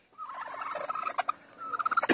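A Silkie hen that is starting to go broody clucks close by in a steady series of short calls, speeding into a quick run of clucks near the end.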